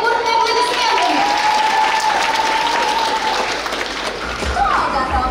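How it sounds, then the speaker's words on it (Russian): An audience at a post-apocalypse-themed fan convention breaks into loud, sustained applause for a chibi costume parade, with a few whistles and shouts mixed into the clapping. "Встречаем бурные аплодисменты!"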